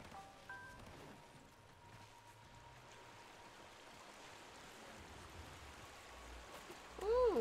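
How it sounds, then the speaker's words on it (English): Rushing water from a waterfall in the Warframe video game, a steady broad wash of moderate loudness running through the whole stretch, with a few faint tonal game sounds and a louder swelling tone near the end. "Ooh, waterfall."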